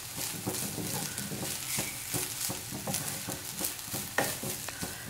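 Grated coconut and onions stirred in a frying pan for a bitter gourd stir fry, a spatula scraping in quick repeated strokes over a soft sizzle, close and without speech.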